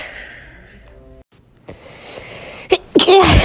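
A person sneezes once, loudly and close to the microphone near the end, just after a quiet, sharp inhale and a short gasp, with faint background sound before it.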